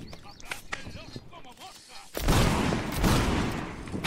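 Musket volleys in a Holland versus Spanish Empire line-battle game, a loud ragged fusillade of overlapping shots erupting after a quieter stretch with faint distant pops.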